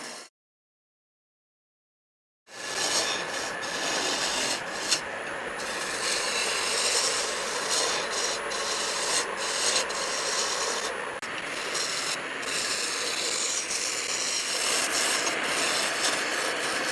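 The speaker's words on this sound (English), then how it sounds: "So I'm just using a roughing gouge here, a small roughing gouge, but sometimes I will use a skew on this as well." Small roughing gouge cutting a wooden pepper mill spinning on a lathe, a steady close rasping scrape that runs continuously after a short silent start, with slight variations as the tool moves along the wood.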